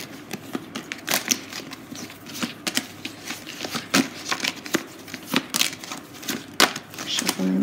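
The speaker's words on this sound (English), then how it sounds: "Shuffling the card." Tarot cards are shuffled in quick, uneven bursts of riffling and soft slapping, close by, with brief pauses between bursts.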